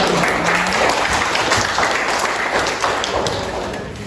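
A room full of people applauding, a dense patter of clapping that holds steady and slowly fades.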